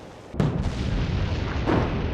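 A heavy explosion booms aboard a small destroyer in the naval game Atlantic Fleet: a sudden loud blast followed by sustained rumbling roar, with a second swell of impact near the end and no talk.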